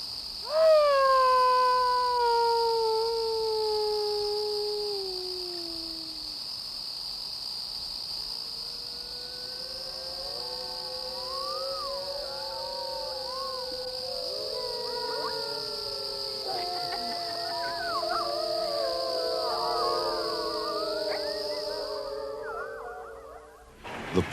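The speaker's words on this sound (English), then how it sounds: "A wolf howl in one of Ontario's largest and most famous parks," Wolf howling in Algonquin Park, Ontario: long, wavering howls slide downward and rise again, overlapping as several voices join. A steady, high cricket-like trill runs underneath throughout.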